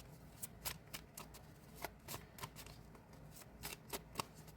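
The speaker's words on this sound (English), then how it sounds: "I'm just shuffling the deck" Deck of tarot cards being shuffled close up, soft riffling flutters and snappy slaps in uneven bursts, quiet and with no one talking.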